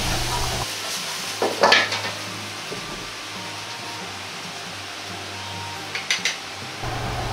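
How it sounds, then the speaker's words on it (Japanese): Beef and green beans stir-fried in oyster sauce in a wok, a steady low sizzle with a couple of louder metallic scrapes and clatters of the ladle and tossed pan, no voices. "鍋を振りながら炒めた具材をお玉に入れ"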